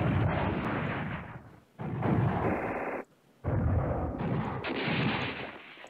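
Artillery in the wartime strategy game Command Ops 2 booms in heavy, loud bursts of blasts and explosions, three long barrages broken by brief near-silent gaps.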